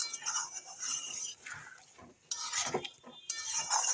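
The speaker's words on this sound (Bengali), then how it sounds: "আলুর সঙ্গে মশলাগুলো আমি কষিয়ে নেবো" Potatoes with spices and a splash of water being stirred in a pan, the spoon scraping and clinking against the metal in irregular strokes at close range, fairly quiet, with no talk.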